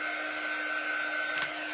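A corded hair dryer blows steadily while drying paste on holiday reindeer decor, giving a close, even whir with a high motor whine, briefly interrupted by a short rustle near the end.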